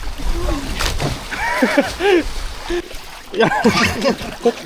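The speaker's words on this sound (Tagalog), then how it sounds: "yun na alon" Waves splash and slosh against the shore at an overnight campsite, in several irregular surges mixed with people talking nearby.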